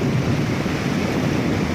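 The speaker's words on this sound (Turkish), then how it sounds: "buradan gördüğünüz gibi falezlerden aşağıya dökülüyor" Düden waterfall pouring over cliffs, a steady, loud broadband roar of falling water with constant rushing wash and wind buffeting, no voices heard.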